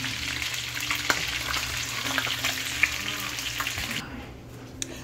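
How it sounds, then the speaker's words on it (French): Fish fries in hot oil with a steady, close sizzle and scattered pops and crackles. It drops much quieter near the end, and no one speaks. "je me rassure que le poisson soit bien frit"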